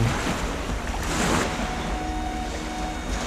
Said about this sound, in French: C'est ce qu'on appelle ici un moteur hors bord